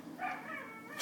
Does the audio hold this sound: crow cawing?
no